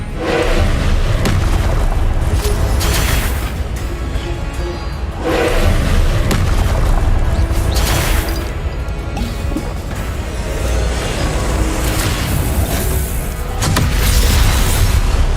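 Confringo fire spells go off in a Hogwarts video game as a steady run of loud, heavy booming blasts that follow one another closely for the whole stretch.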